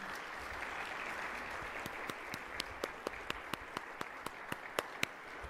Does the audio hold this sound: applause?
yes